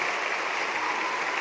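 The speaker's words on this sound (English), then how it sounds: "Give yourselves a big round of applause" Audience applause for participants at a high school oratorical competition, a dense, steady wash of clapping from a crowd, held at an even level throughout with no voices over it.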